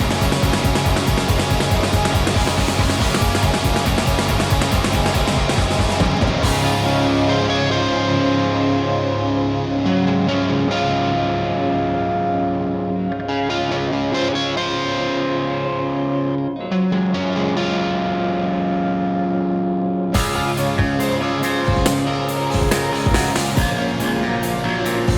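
A metal song plays loud and dense, with heavily distorted guitars and drums that drop briefly into a sparser, effect-laden passage before the full band crashes back in.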